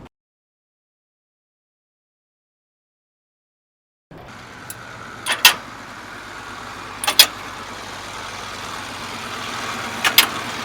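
A heavy C+E training truck backs slowly beneath containers, its diesel engine idling low and steady after a silent start, with a few sharp clanks or air bursts punctuating the rumble.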